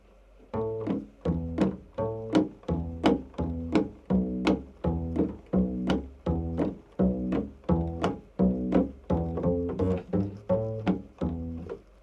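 A plucked double bass line walks through a verse of a song, each note struck in a steady, even rhythm with a warm, resonant tone, played solo.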